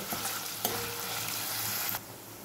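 Paneer cubes fry in hot oil in a pan, making a continuous, close sizzle with one brief stir clink before the sound suddenly drops off.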